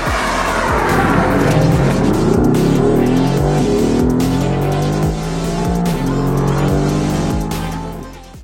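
Mercedes-AMG GT R sports car driving hard on a race track, its engine loud and close with repeated revving as it accelerates and shifts through gears, tires squealing now and then, no talking.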